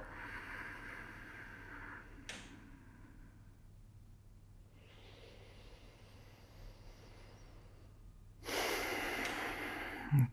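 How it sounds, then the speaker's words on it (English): Slow, deep breaths taken to settle during a wrist and shoulder strengthening workout, soft airy inhales and exhales close to the microphone in a quiet room, with a louder, fuller breath near the end. "A couple of breaths to settle."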